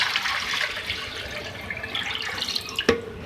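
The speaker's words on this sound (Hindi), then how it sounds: "और 1 लीटर में इसमें पानी ऐड कर रही हूँ।" About a litre of water splashes and gurgles steadily into a pot of chickpeas for chana pulao stock, close and continuous, with a small clunk near the end.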